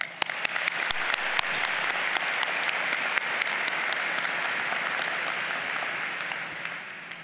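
Graduating business school class and audience applauding family, faculty and friends at a university convocation in an arena; sustained dense clapping with sharp individual claps standing out, steady and moderately loud, tapering at the end.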